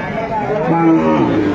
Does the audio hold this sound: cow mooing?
yes